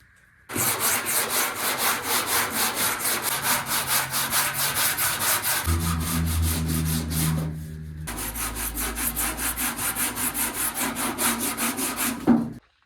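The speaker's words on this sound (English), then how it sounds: "Usually 40 grit cuts right through this stuff, and it is, don't get me wrong, but it's just taking a lot." Power sander with 40 grit paper cutting body filler on a custom cowl hood for a 1983 Chevy G20 van, loud and close with a rapid pulsing back-and-forth drone, a brief pitch change midway, then stopping abruptly.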